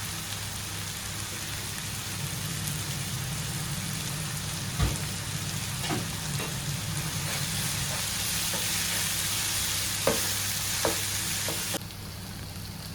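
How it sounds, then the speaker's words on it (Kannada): Onion and tomato sizzle steadily in a hot pan with turmeric powder and salt for a chicken bhuna masala, a close, continuous crackle with occasional louder pops and stirring scrapes, no voices. "ಈ ಒನಿಯನ್ ಟೊಮೆಟೊ ಒಳ್ಳೆ ಫ್ರೈ ಆಯಿತು."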